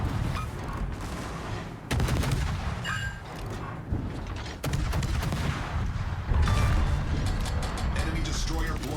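Enemy destroyer Yu Yang firing naval guns in World of Warships: a dense, continuous barrage of heavy booms and crashes, with several sharp, loud impacts standing out from the roar.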